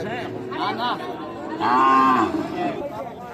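A young heifer calf, about three months old, moos loudly at a busy cattle market, with a couple of shorter moos followed by one long, drawn-out call over the chatter of the crowd.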